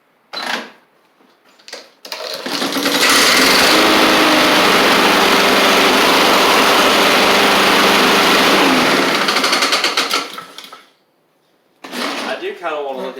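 A Husqvarna push mower with a Honda GCV160 engine, one with pull rope and cable problems, sputters briefly and then roars loudly at close range for about seven seconds before cutting out, sounding slightly off.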